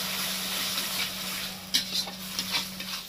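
Ground cumin, coriander and red chilli powder sizzle steadily as they are sautéed together in a pan for dhaba-style palak paneer, with a few scraping stirs of the spoon cutting through the constant close frying hiss.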